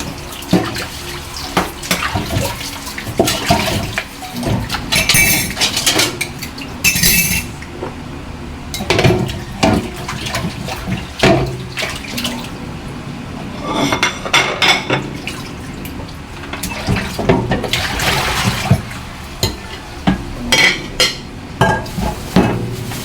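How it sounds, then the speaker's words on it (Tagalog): Dishes and plates are washed under running water in a kitchen sink, splashing tap flow mixed with repeated clinks and clatter of plates and cutlery, close and irregular, no talk. "para mabilis na lang maglinis ng lababo. Hirap pag may hugasin sa lababo."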